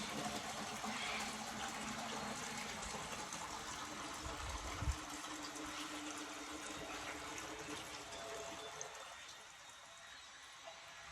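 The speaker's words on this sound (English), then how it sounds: "I've added a little bit of fresh water" Fresh water trickles and gushes faintly into an Aqua One Mini reef aquarium, a soft continuous watery wash with a brief low thump midway, fading slightly near the end.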